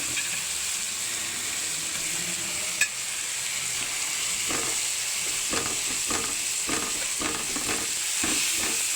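Food sizzling and frying in a pan while it is stirred, with steady steam hiss and soft intermittent scraping strokes of a utensil, close and continuous with no voices.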